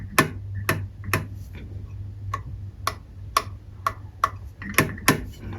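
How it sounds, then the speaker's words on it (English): The choke butterflies on a Holley carburetor with a manual choke kit click open and shut in a quick, uneven string of sharp ticks over a low steady hum. "You can hear the butterflies click"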